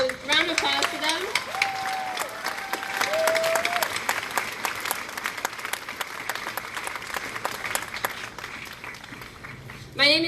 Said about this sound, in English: let's give it up a round of applause for them